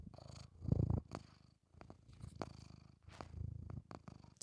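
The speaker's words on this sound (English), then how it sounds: "Let's see if you can hear him purring." A cat cuddled up on a person's shoulder purrs close to the microphone, a soft rhythmic rumble rising and falling with each breath, quiet and uninterrupted by talk.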